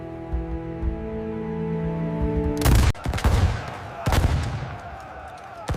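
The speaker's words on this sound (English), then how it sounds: "Volleys of lead tear through the ranks of the charging defenders." Musket volleys crack out in a battlefield clash of Maori tribal warfare, a droning tone underneath at first, then two heavy ragged volleys about a second apart followed by scattered shots and rumbling echoes.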